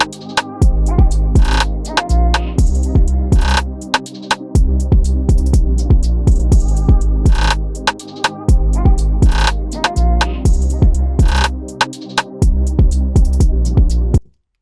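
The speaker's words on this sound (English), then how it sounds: "let's listen to the whole thing without vocals" A house and R&B instrumental beat without vocals plays, with a punchy four-on-the-floor kick pumping the sidechained bass and pads, crisp percussion hits, and a brief break before it repeats.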